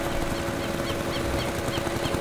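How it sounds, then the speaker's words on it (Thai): A small tractor engine in Farming Simulator 19 drones steadily and close up, a constant rough mechanical hum with a rattling, knocking texture and no pauses. "เป็นเครื่องแบบเครื่องรถไถนาครับ"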